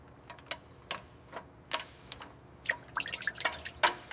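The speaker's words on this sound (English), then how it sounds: "Now we drain water from the axles" Water draining from the axles of an old police car pulled from a swamp after 40 years, falling as irregular drips and small splashes that grow busier and denser toward the end, close by with no talking.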